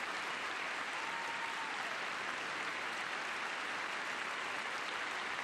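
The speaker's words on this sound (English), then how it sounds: "Did they actually clap at that finally?" Members of Congress applaud during a presidential address, a broad, even wash of clapping filling the chamber throughout without a break.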